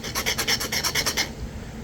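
Flint point being cleaned of burrs with a notcher: about ten quick, close rasping strokes in a steady rhythm, followed by a brief quiet.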